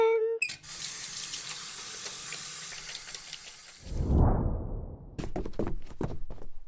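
Water gushes steadily from a sink tap during handwashing, then the flow stops with a clunk of the handle and a few clattering knocks follow, close by and without talk.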